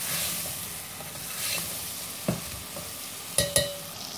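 Red chili, cumin powder, turmeric and coriander powder roast in a pan for a lauki aloo sabji, a low steady sizzle punctuated by a few quick metallic stirring clinks.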